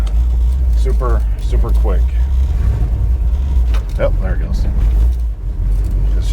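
A 1977 Chevy Monte Carlo, back on the road after 20 years, rumbles along with a low engine drone through the cabin while people talk over it.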